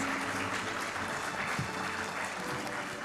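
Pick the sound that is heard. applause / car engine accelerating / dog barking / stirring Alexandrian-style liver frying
applause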